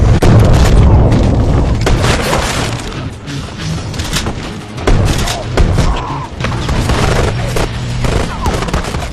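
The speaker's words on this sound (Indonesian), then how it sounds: "Baku tembak pun berlangsung dengan sengit." A loud film gunfight plays out, with heavy booming shots, bursts of rapid fire and thuds rolling through in waves, dipping briefly before flaring up again, and some voices faintly underneath.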